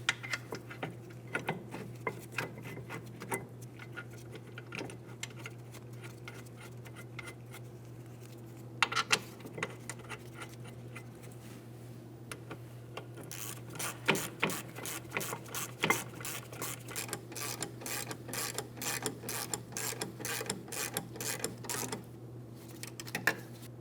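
Caliper bracket mounting bolts are threaded by hand into the rear brake assembly of a 2007-2014 Ford Edge, giving soft metallic ticks and clicks, with several sharper bursts of ratcheting over a low steady hum.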